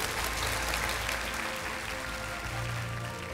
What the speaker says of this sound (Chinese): 再次把掌声送给你